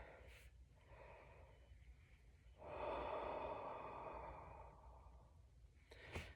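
A person does a slow, deep breathing exercise nearby, with a short sniff followed by a long, steady exhale lasting a few seconds, then a quick intake of breath, all quiet and without talking.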